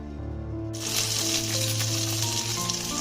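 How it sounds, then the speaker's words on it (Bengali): Fish, potatoes and tomato frying in oil with salt and turmeric, a steady close sizzle that swells suddenly and then holds a dense crackling hiss over a low background hum. "এখন আমি মাছগুলোকে ভেজে নেব, আলুগুলোকেও ভেজে নেব ভালো করে নুন হলুদ দিয়ে"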